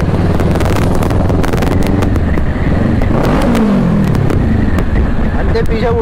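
Kawasaki Ninja Z650 sport bike engine droning steadily while riding, loud and continuous with wind rush over the microphone, with a brief rising rev partway through and some indistinct voices in the background.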